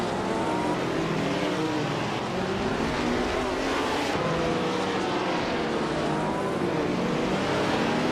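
A Ferrari 312 racing car's engine roars without a break in a racing video game, a loud, dense, unbroken drone with shifting pitch from the surrounding field, and no talking.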